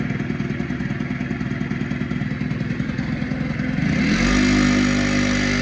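An Aprilia SR50 scooter engine, being tuned with a lambda sensor, idles with a rapid buzzing putter, then revs up sharply into a louder, higher, steady drone, close by.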